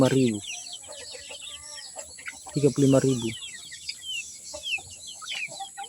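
Colorful roosters and free-range chickens cluck in short bursts, a few loud close calls among fainter scattered clucks and chirps, with a steady high hum in the background.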